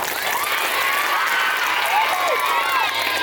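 Students at a government school event clap and cheer together, a dense, steady wash of applause with shouts and whoops running through the whole stretch, close and loud.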